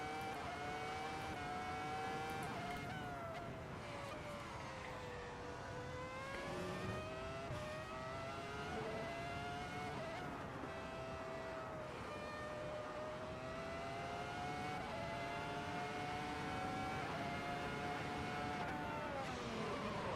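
A modern 2017 Formula 1 car engine in Assetto Corsa drones loud and steady, its high whining pitch rising and falling through gear shifts over twenty seconds, with no talking.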